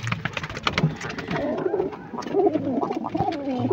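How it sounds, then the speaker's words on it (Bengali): Pigeons in a home loft coo nearby in repeated low, throaty phrases, with soft rustling and shuffling around them. "আমার বাড়ির সেরা পায়রা এই দুটো।"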